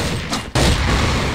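Dense, noisy AK-47 gunfire bursts fill the clip, with a brief dip before a heavy blast of continued shooting, loud and close in video game combat.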